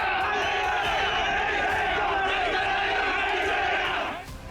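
A large crowd of protesters in the streets of Leh roars and shouts in a dense, sustained mass of voices, loud and continuous before tailing off at the end.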